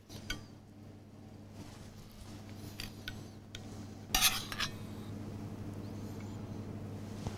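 Cocotte-cooked Breton lobster being plated, with close metallic clinks and taps of cutlery against dishes and one louder scrape, over a low steady kitchen hum.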